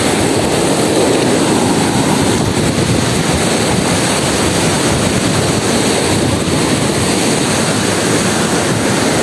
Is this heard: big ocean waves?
yes